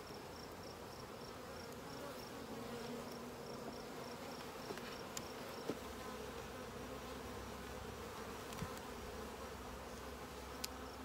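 Honeybees hum in a dense, steady buzz around an open hive during an inspection at an apiary, with a few faint clicks and knocks of handling breaking through.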